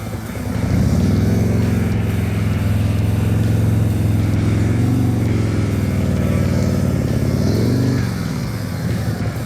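A dirt bike engine revs steadily and loudly for several seconds during riding practice, holding a sustained drone before easing off near the end, with no talk over it.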